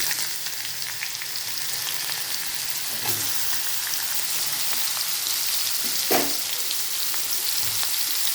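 Chopped bottle gourd goes into a pan of hot oil with fried radhuni seeds, giving a steady, close frying sizzle with a few stirring knocks throughout and no talking.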